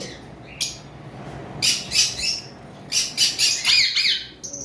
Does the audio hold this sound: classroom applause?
no